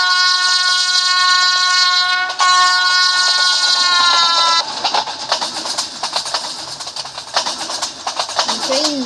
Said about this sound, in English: The train's speeding by right now.